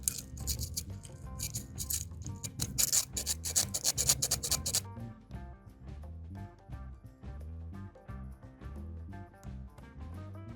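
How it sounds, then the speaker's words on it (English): Sandpaper rubbed in quick rasping strokes to clean the pin of a worn BMW ignition switch, the scraping bursts dense at first then fading, over steady background music. "we're just going to take some sandpaper and clean that up"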